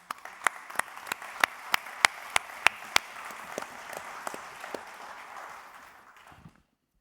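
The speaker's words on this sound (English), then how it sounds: "I'll give a big round of applause for our panelists." Audience applause for conference panelists at the EARTO Annual Conference, opening with about ten loud, sharp, evenly spaced claps up close, then a steady wash of crowd clapping that fades and stops near the end.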